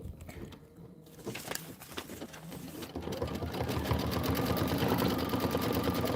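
An embroidery sewing machine runs decorative stitching, starting with scattered mechanical ticks and clatter, then settling into a steady, loud, fast needle hum and rattle heard up close, with no one talking.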